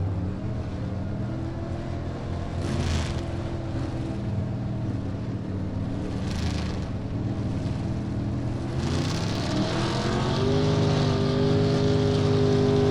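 A/Gas drag race cars at South Georgia Motorsports Park, loud engine roar with rising and shifting tones as they accelerate, heard at a distance over a continuous noisy background, with no voices.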